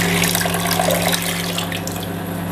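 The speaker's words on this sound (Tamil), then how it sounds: "தண்ணியை ஊற்றிக்கிறேன்," Water from a small vessel poured steadily into a pot for cooking noodles, a continuous splashing flow under a low electrical hum.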